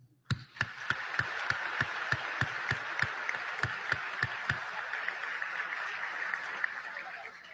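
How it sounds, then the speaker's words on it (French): An audience applauds at a graduation ceremony, with a few loud, evenly spaced claps at first, then many hands joining into sustained, fairly distant applause that continues steadily. "À vous donc ce concert d'applaudissements."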